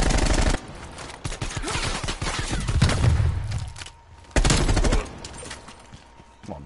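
Gunfire from a shooter game on PS4 rattles in loud, rapid automatic bursts, with dense clusters of shots separated by short quieter gaps and a heavy thump in the middle.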